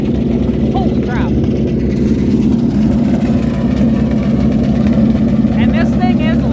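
Cosworth Vega engine with straight open headers running at a car show, a loud, rough, steady exhaust rumble close by, with voices talking over it.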